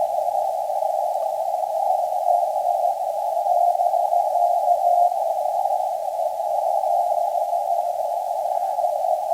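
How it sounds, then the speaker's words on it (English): A steady, unbroken tone from a CW Morse code radio signal out of Hawaii hums in amateur radio receiver audio, holding at an even level for the whole stretch without clear keying gaps, alone with no voices. "I can barely hear that CW signal coming from Hawaii."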